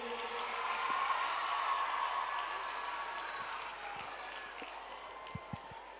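Crowd applause at a school quiz contest fills the space, a continuous patter of clapping with voices mixed in, fading slightly toward the end.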